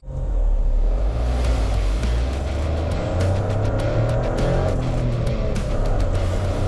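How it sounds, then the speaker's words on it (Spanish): Toyota GR Yaris H2, a hydrogen-engined car, heard from inside while driving: a steady, loud engine drone with rising and falling revs throughout, no speech. "lo primero y lo más lindo de esto es el ruido del motor"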